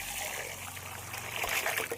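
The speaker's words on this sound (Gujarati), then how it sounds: "દાળને હવે ધોઈ લઈએ" Split moong dal being washed in a bowl of water, with a steady close trickle and light splashing of water running and swirling through the lentils.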